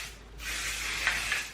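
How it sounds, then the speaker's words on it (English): A can of Aquage finishing hairspray releases a close, continuous airy hiss onto hair, with two brief sharper spurts near the end. "This is Aquage finishing spray, and I will spray the front"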